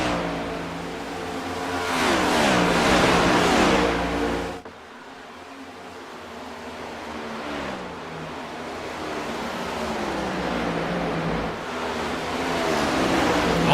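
A Stars & Stripes Next Gen Series race car on fresh tires roars past at Chicagoland, its engine note swelling loud, dropping away abruptly, then building again as traffic keeps circulating nearby.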